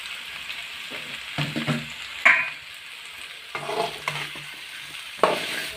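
Sliced onions sizzle in hot oil in a pan while a spoon stirs them, with irregular scraping strokes and a couple of sharp clinks against the pan over a steady frying hiss.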